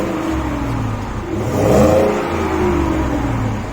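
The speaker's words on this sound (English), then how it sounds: "I'll leave a clip after this which showcases the sound of the V8 so that you know how it sounds." A 2021 Ford F-150's 5-liter V8 revs up, a close engine roar that climbs and swells midway, then settles back to a steady hum, with no talking.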